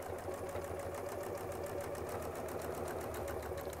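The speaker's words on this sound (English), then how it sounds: "And we'll sew out and back." A sewing machine stitches continuously during free-motion quilting, a fast, steady mechanical patter heard quietly and close throughout, with no voices.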